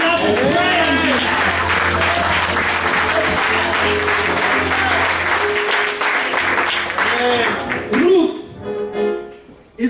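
A church congregation at an AME Zion service claps steadily and loudly for about eight seconds while voices ring out over the clapping, before the sound thins and trails off near the end.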